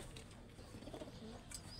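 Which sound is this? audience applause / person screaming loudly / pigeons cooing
pigeons cooing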